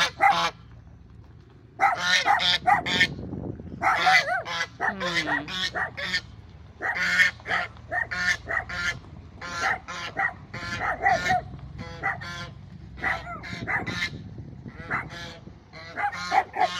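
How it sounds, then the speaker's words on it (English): A dog barks repeatedly at a vehicle that has just driven through a rural property, loud bursts of honking, goose-like barks in an uneven rhythm close by, with a short quiet gap at the start. "That's Sadie barking because whoever just drove through figured out they're in the wrong place"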